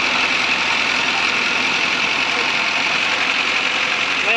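A small engine powering a homemade Halloblock mortar mixer runs at a steady idle, a loud continuous drone with a faint mechanical knock and no break.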